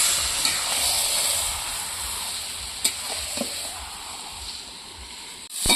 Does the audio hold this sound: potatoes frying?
yes